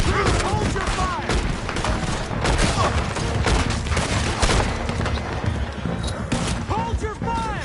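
Gunfire rages in a Red Dead Redemption 2 shootout in the mountains: dense, continuous volleys of shots and cracks, loud and close, with shouting voices mixed throughout.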